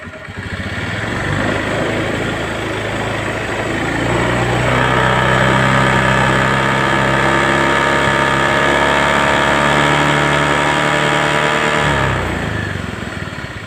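A motorcycle engine held steady around 3000 RPM during a voltage check, a loud, close, continuous hum that rises slightly in pitch after a few seconds and then drops away near the end.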